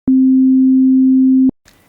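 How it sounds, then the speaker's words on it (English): A pure sine-wave test tone plays alone, loud and perfectly steady for about a second and a half, then cuts off cleanly into near silence. "So this is 4 times faster oscillation than the initial sine wave I played for you."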